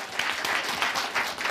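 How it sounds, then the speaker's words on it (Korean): An audience at a Korean Christian talk concert breaks into applause, a dense, loud, steady clapping that fills the hall for a moment with no talk over it. "이 순간에는 박수를"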